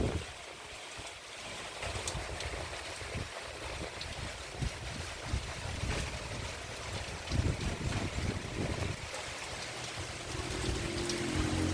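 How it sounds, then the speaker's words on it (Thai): Strong wind blasting across an open microphone, a dense continuous roar with gusty low rumbling swells that stays loud throughout, with a water-like wash underneath. "ลมแรง"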